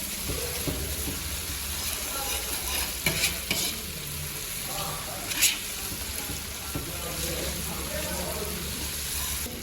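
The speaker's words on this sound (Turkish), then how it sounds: "Soğanlar kızardı. Annem yarım servis kaşığı salça ekledi." Onions fry in a large pan as tomato paste is stirred in for a big workplace meal. A continuous low sizzle is broken by a few sharp scraping stirs, with people talking quietly over it.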